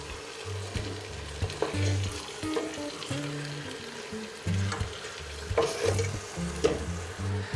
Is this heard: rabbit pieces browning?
yes